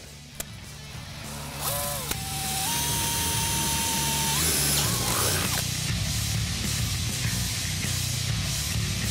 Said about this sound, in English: Then drill a hole where you put your mark so the wire can go through it.